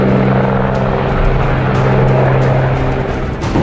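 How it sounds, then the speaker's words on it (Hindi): Helicopter engine and rotor drone, loud and steady with a low tonal hum, from a small helicopter flying a rescue mission over fields near a glacier disaster zone. "साथ ही छोटे छोटे हेलीकॉप्टर्स को भी खेतों में हेलीपैड बनाकर रेस्क्यू मिशन पर लगाया गया"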